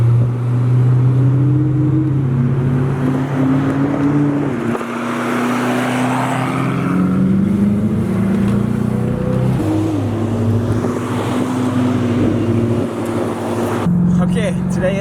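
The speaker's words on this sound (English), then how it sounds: "I just drove behind a P1 for like 30 seconds" A McLaren P1 supercar driving ahead, heard as a steady loud engine drone with shifting pitch steps from a following car's cabin, with a person talking over it throughout.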